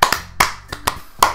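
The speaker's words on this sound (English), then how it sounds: "I'm the first to start applauding." A few sparse, sharp claps in Doki Doki Literature Club, spaced irregularly, close and isolated with no talking.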